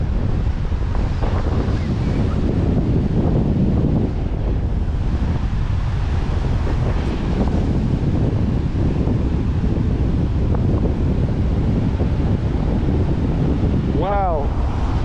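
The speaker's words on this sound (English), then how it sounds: "The wind is crazy right now." Strong wind buffets the microphone at a beach on Little Talbot Island, Florida, a loud continuous roar mixed with crashing surf for the whole stretch, with a brief whistling tone near the end.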